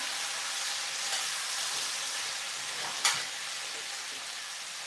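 Steady hiss of food frying in a pan while a jackfruit pot roast cooks, a continuous broadband sizzle at moderate level with one brief sharp crackle near the end and no talking.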